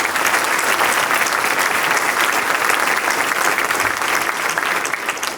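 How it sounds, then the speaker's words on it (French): Loud, sustained applause fills the hall at a mayor's New Year greetings event, a dense crowd clapping evenly before easing slightly at the end. "vous pouvez l'applaudir"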